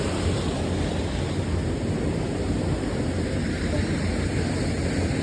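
Broad, deep waterfall at Uway-uway Falls, a steady, dense roar of rushing water that fills the whole clip without a break, close and loud with no voices.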